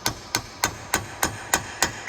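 A hammer taps a rusty snap ring on the front wheel bearing of a 2004–2011 Ford Focus. Seven sharp, evenly spaced metallic strikes come about three per second, close and clear, with no talking.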